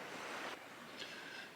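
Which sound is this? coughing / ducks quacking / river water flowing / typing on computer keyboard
river water flowing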